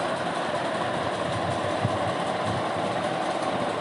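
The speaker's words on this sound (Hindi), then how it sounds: "अब हम यहाँ पे प्लेटों की सिलाई करेंगे।" A sewing machine stitches trouser pleats with a loud, continuous motor whir and a steady mechanical rumble, close by, with no break.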